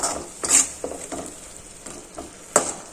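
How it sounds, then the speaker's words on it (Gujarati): Onions sizzle in a pan for mango-tomato chutney, a soft, steady frying hiss broken by several scraping stirs and a few light clinks of a utensil against the pan, with no talking. "બસ હવે આને આપણે 2 મિનિટ માટે પકાવી લેશું, જેના લીધે ડુંગળી એકદમ સરસ રીતના સતળાઈ જાય."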